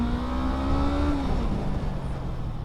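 Honda CB500F 2019 motorcycle engine held around 5000 rpm, a steady, loud mid-pitched drone with a slight dip in pitch partway through, heard up close without voices.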